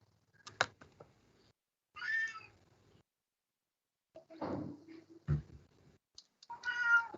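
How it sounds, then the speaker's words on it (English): A house cat meows several times in separate bursts, some drawn out and some short, fairly close in a quiet indoor room, with a few faint knocks between calls. "Can hear the cat."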